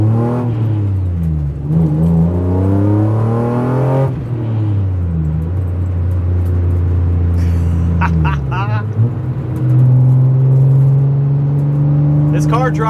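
A BMW E36 M3 with the S52 engine revs loudly and steadily, its pitch climbing, dropping and climbing again through several rises across the stretch, close and dominant throughout.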